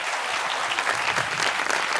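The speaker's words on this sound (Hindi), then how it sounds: "तालियां!" Studio audience applause on a Pakistani talk show, steady dense clapping that fills the whole stretch at close range with no pause.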